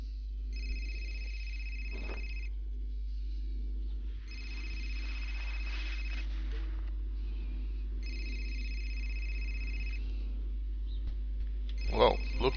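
A telephone rings in the video game Fahrenheit: three evenly spaced electronic ring bursts with pauses between, then the start of a fourth, over a steady low hum in an indoor scene.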